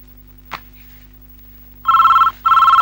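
Office telephone bell ringing in two loud electronic bursts after a short click, in an otherwise quiet room.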